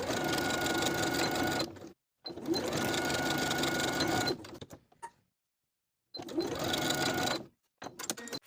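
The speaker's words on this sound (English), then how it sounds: "we'll sew from the top to the first dot, backstitching to secure" A sewing machine stitches seams on colorblock women's pants in three fast, steady bursts separated by short pauses, the motor whirring loudly and close with no talking.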